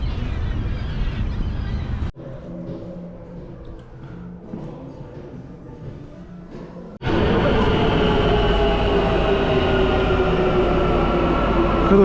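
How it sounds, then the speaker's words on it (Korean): A subway train with automatic doors: loud rumbling rolling noise, then a quieter stretch, then an abrupt surge back to a loud, steady roar, with no talk. "얘는 문이 열리는 자동으로 문이 열리는 전철이네"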